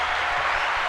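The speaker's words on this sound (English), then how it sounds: "Round of applause for him." An audience at a live Q&A show claps in a dense, even burst of applause lasting about a second.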